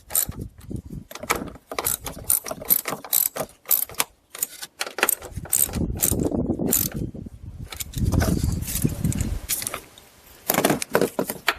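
Ratchet tightening strut mount nuts on a Buick Lucerne, giving rapid clicking bursts separated by short pauses, close up and fairly loud, with a heavier low rumble of hand movement in the middle.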